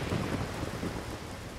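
A lightning strike from the Lightning Tree spell in the video game Wizard101, a loud, dense crackling rumble like thunder and pouring rain that fills the short moment without any talk.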